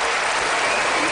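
A presidential debate audience in Mesa, Arizona breaks into applause, loud and dense clapping that fills the whole moment without letting up.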